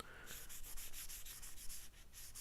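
Hand rubbing finish into a custom Strat guitar neck of black limba (korina), a soft repeated swishing friction in steady strokes, close and quiet with no talk.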